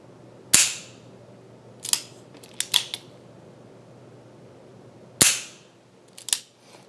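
Sharp metallic clicks from a Ruger GP100 Match Champion .357 Magnum revolver cocked and dry-fired in single action: one loud snap, a cluster of smaller mechanical ticks, then another hard snap and a couple of follow-up clicks, close and alone.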